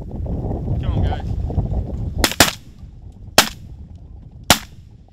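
Four sharp shotgun blasts ring out during a duck hunt in a snowstorm: two in quick succession, then two more spaced about a second apart, loud over wind noise and murmured voices.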